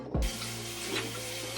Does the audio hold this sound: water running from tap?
yes